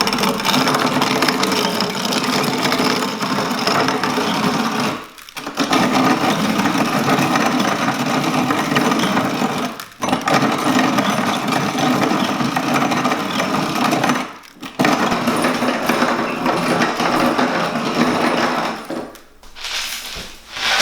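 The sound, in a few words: grain mill grinding whole Danny corn into flour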